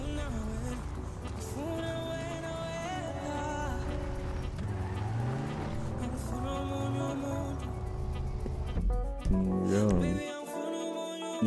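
A car engine in the video game GTA revs and shifts continuously, rising and falling in pitch, loud and sustained, with a brief scrape near the end before cutting off.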